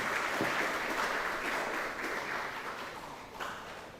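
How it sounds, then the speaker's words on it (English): An audience at a Pacific Islands Forum keynote address claps steadily in a dense, sustained round of applause, even and fairly loud throughout with a slight swell near the end. "May we have a round of applause for this remarkable moment."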